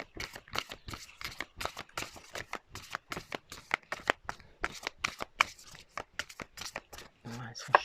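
Playing or tarot-style cards being shuffled by hand in a series of quick riffling bursts, close and fairly quiet, with brief pauses and a soft voice murmuring near the end.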